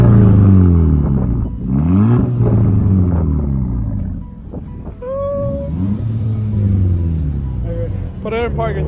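An Audi A3 with a 2.5-inch straight pipe exhaust revs in neutral, its loud, deep drone rising and falling through several throttle sweeps, with a voice speaking over it partway through.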